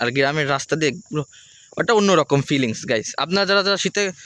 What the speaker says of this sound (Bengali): আর এখন ঝিঝি পোকা ডাকতেছে।